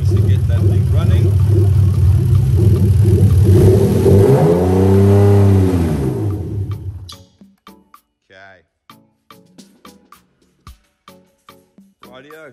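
A Lexus 2JZ-GE engine fitted in an IS200 runs loudly with a steady drone that rises and falls, then cuts off, leaving faint clicks and knocks.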